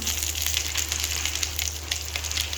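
Whole spices, fennel, bay leaf and star anise, sizzle in hot oil in a pan for chicken curry, a dense steady crackle close by with no talking.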